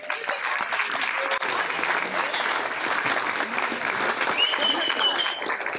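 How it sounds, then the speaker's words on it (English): Round of applause from guests at a summer soiree fundraiser, sustained clapping throughout with some voices and cheers mixed in underneath. "How about a nice round of applause?"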